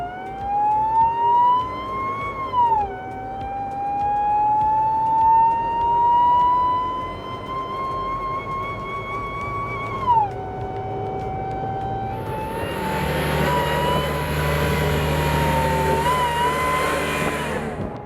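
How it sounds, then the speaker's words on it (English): A supercharged Jeep Wrangler's supercharger whine climbs steadily in pitch as the engine revs, dips, climbs again, then gives way to a loud rushing roar of hard acceleration. "Let's step on it and hear the supercharger."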